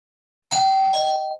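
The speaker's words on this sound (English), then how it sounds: "Oops, sorry, my doorbell." A home doorbell rings a two-tone ding-dong chime, loud and clear after a moment of silence, the second tone ringing out to the end.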